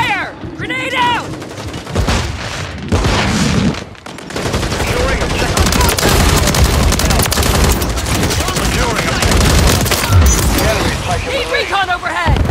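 Dense gunfire fills a Call of Duty battle, with rapid machine-gun bursts, scattered booms from a thrown grenade and shouted voices over the constant loud firing.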